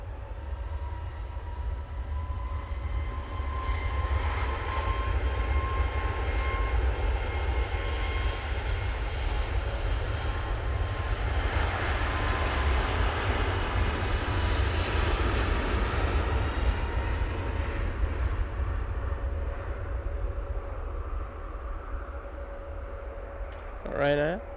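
A Ryanair airliner takes off from snowy Manchester Airport, its jet engines building into a loud, sustained roar that swells and then slowly fades into the distance, with talk faint underneath.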